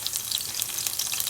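Garlic fries in a little oil in a frying pan for pork adobo, giving a close, steady hiss and crackle with no voices.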